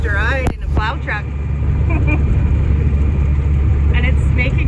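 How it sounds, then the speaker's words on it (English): A snow plow truck's engine rumbles steadily from inside the cab while people talk briefly over the drone. "Hitched a ride in a plow truck."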